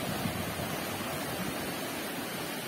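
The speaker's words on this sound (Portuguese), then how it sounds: "Muita água no rio" River water at Rio da Caixa in southwest Bahia rushes in a steady, broad, unbroken wash that holds an even loudness throughout, with no voices.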